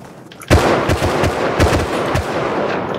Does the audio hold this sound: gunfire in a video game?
yes